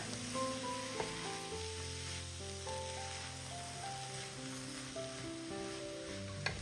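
Snack filling for iftar snacks sizzling in a pan while being stirred, a quiet steady sizzle with soft scraping of the spoon, no voices.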